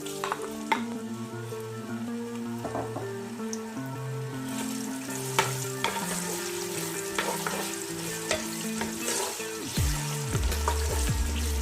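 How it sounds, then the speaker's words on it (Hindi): Onion frying in hot oil in a pressure cooker over a high flame, a steady soft sizzle with occasional stirring clinks and scrapes, close and continuous. "प्याज को जो आपने हल्का सा ब्राउन करना है, फ्लेम आप हाई रखिएगा"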